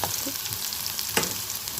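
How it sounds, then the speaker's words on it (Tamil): Onions sizzle steadily in a hot pan, a constant crackling hiss with a couple of brief stirring scrapes, close up and with no talking. "வெங்காயம் நல்லா வதங்கணும் அப்போ தான் நல்லாயிருக்கும்"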